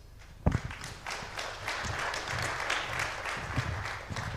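Audience applause fills a conference hall as panelists leave the stage after a green financing panel discussion, a dense steady wash of clapping with a few sharper thumps near the start, sustained for several seconds.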